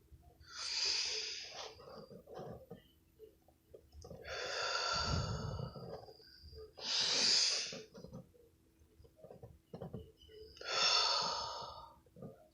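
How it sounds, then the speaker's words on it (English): Slow, deep breaths are drawn in and let out close to the microphone, about five long airy cycles with quiet pauses between them. "Breathe in slowly"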